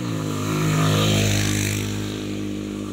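Motorcycle engine pulling hard uphill on a mountain road, a loud, steady low drone with strong harmonics that swells near the middle and stays close throughout.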